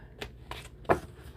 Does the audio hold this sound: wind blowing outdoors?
no